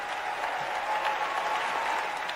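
A standing ovation for the Los Angeles mayor, the city's first woman mayor, after she declares a homelessness emergency: dense, steady crowd applause fills the whole stretch at a constant loud level.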